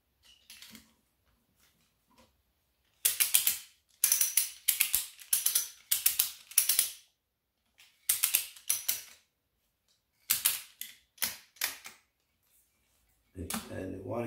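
A homemade bead breaker tool is ratcheted down on a tire, a series of crisp, close mechanical clicks in short bursts separated by pauses, with a brief thump at the end.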